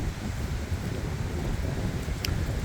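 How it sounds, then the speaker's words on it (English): Strong wind from Tropical Storm Debby in northern Vermont roars and buffets the microphone as a steady, loud, low rumble throughout, with no talking. "Windy as fuck"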